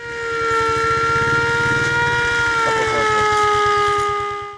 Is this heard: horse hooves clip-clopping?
no